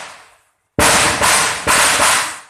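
Firecrackers go off outdoors in a loud, close crackling series, with bursts of rapid popping that renew several times after a brief silence.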